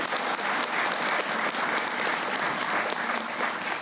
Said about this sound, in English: I would like to offer them and all of you for supporting them another round of applause